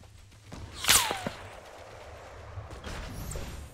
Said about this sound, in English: I don't know where they're shooting me at